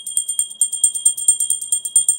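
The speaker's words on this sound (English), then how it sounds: "This is my bell. I love bells. This is a pure silver bell" A pure silver hand bell rings in a quick, steady series of about fifteen bright, high metallic strikes, close and clear, with no voices over it.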